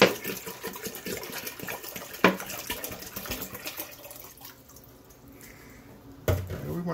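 Water is poured into a big pot while making plum wine, a close splashing stream that thins out and then resumes with a sudden louder gush.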